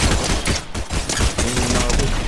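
Dense, loud bursts of rapid gunfire from a shooter video game fill the whole stretch, with overlapping volleys close by and voices faintly underneath.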